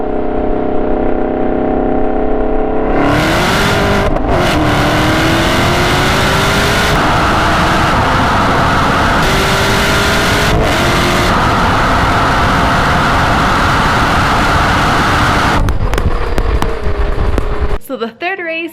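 A 2019 Camaro ZL1 and a 2017 Nissan GT-R accelerate hard in a roll race from 40, with loud, sustained engine roar and rising revs heard from inside the car, plus a brief shift and wind buffeting near the end.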